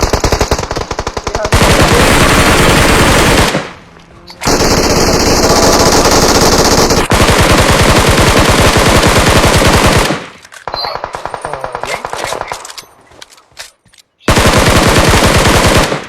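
An MG3 machine gun firing in a video game, long loud sustained bursts of rapid automatic fire broken by brief pauses and a few shorter volleys, dominating the whole stretch.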